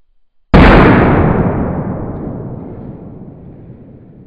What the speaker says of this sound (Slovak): Ďalej si ideme odpáliť jednu z petard Dumbum 5G.